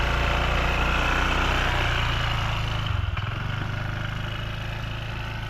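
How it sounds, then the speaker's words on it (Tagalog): A motorcycle engine idles steadily and loud, a close low chugging drone that dips slightly near the three-second mark and continues evenly to the end, with no talk. "Marunong na si Nicole magmotor"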